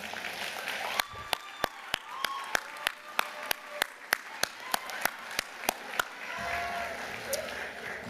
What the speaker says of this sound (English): give them a round of applause for your support of your journey